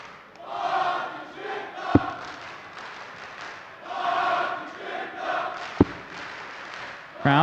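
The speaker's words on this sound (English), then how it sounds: "Crowd just looking to lift their man." Darts crowd at a European tour match swells in waves of cheering and chanting to lift their player, loud and fairly close, with a couple of sharp thuds and a commentator's voice over it.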